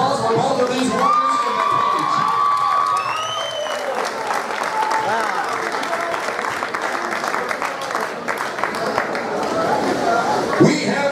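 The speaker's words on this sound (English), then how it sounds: "How about a round of applause for both of these wonders" Audience applause and cheering after an MMA bout ending in an armbar submission, a dense, steady wash of clapping and crowd shouts holding for the whole stretch, with a few louder whoops and an announcer's voice faintly over it.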